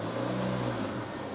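A van engine revs steadily nearby, a continuous mid-pitched drone with a slight rise and fall in speed, heard alone without voices.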